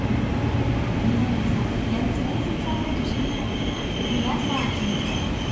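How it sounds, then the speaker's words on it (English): A Japanese bullet train rumbling steadily past at close range, a continuous loud roar of wheels and rail noise with faint squealing tones on top, no speech. "So you'll get to see a bullet train."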